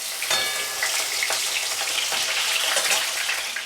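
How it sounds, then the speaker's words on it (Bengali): Potatoes frying in hot oil together with spices, a dense continuous sizzle with crackling pops and occasional stirring scrapes, close up and with nobody talking. "তুলে আমি এবার এই তেলের মধ্যে আলুগুলো ছেড়ে দিলাম। আলুগুলো ভাজা করব,"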